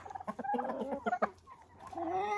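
Chickens cluck and squabble in a henhouse over apples tossed to them, a quick flurry of close clucks and squawks followed by a brief lull and more calls.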